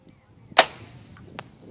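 An arrow loosed from a bow during a dove hunt gives one sharp, loud snap, then a brief trailing rush and a fainter tick moments later, with no talk.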